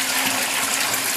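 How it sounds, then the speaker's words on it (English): Two gallons of filtered water, just under 70 degrees, pour vigorously into a fermenter for fig mead, a loud, steady gushing splash that carries without a break from start to finish. "Nice vigorous pour to help mix it."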